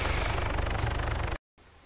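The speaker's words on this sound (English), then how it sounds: "who the fuck are all these choppers?" Helicopters drone through a battle in the video game ARMA 3, a loud dense rotor roar mixed with combat noise that cuts out abruptly and then returns softer and more distant.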